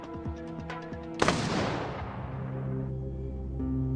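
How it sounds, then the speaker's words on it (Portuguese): A rifle volley fires at an execution, heard as one sudden, loud, sharp blast that decays quickly over a sustained musical background. "The rifles had already been precisely aimed, and then Warden Dickerson said, 1, 2, 3, fire"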